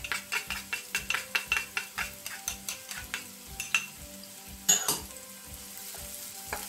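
Garlic and onion sauté in a pan for Filipino fresh lumpia, a steady close sizzle broken by regular stirring scrapes about every third of a second, with a louder clatter near the end.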